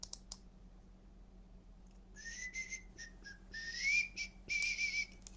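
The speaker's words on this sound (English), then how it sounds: "We don't just love that whistle." A faint, thin whistle rises and wavers in several short bursts over quiet background hum, preceded by a couple of soft clicks.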